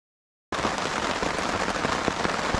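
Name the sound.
rain starting to fall at a riverside camp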